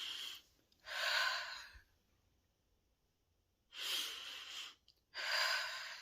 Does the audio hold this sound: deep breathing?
yes